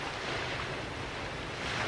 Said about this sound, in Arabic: وهاج البحر علينا هيجات عظيمة وتلاطمت الأمواج